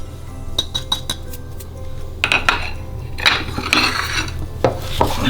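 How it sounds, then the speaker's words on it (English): Christmas pudding batter with mixed spice being stirred in a bowl, a close run of scraping and clinking spoon-against-dish strikes in an uneven rhythm. "Mix it all together and sprinkle that in."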